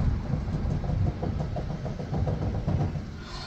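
A Jeep tire with a loose wheel bearing is shaken by hand, giving a steady low rattling and clunking rumble that continues throughout, close and moderately loud, with no speech.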